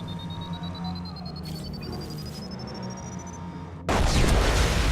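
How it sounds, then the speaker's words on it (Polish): A loud, broadband video game explosion in Mass Effect 2 bursts in after a stretch of rumbling game noise and a rising electronic tone, then roars on to the end. "Zaraz wybuchnie!"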